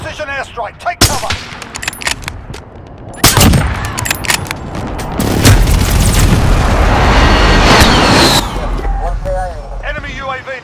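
Precision airstrike explosions in a first-person shooter, heavy booms and bursts of gunfire crashing loudly and repeatedly, building into a sustained roaring barrage, with voices calling out between blasts.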